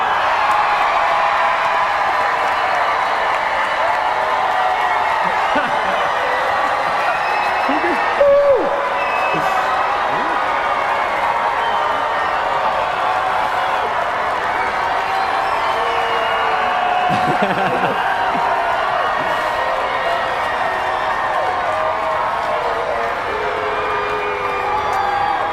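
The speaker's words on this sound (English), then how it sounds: "let's hear it for 4J!" A large audience at MINECON 2016 cheers and applauds for 4J, the Minecraft console developer, in a steady roar of claps, whoops and crowd noise that holds for the whole stretch, with voices mixed into the din.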